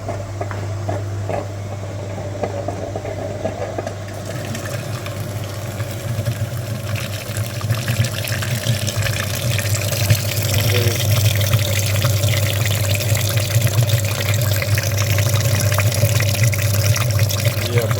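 Water surges steadily through the heater radiator and cooling system of a Daewoo Lanos during a flush, a constant rushing wash with a low pump hum underneath that grows slightly louder midway.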